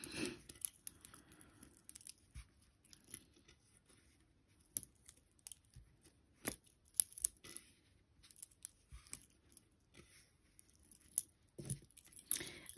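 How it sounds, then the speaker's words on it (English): Scissors trim bobbin lace threads with scattered quiet snips and clicks at an uneven pace, close up in an otherwise near-silent room. "I'm just going to trim these threads off long"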